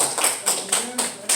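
A church congregation claps together in blessing, five evenly spaced sharp claps in a quick steady rhythm, fairly close and clear.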